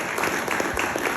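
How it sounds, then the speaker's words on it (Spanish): Brief burst of audience applause at a book presentation in a cultural centre in Tuxtla, Chiapas, a continuous wash of clapping throughout the short moment. "Un aplauso también, por favor."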